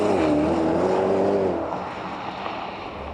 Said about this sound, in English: We're going to find out exactly how fast this Panamera is to 100k.